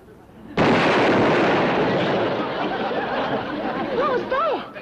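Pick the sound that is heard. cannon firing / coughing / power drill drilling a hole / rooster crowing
cannon firing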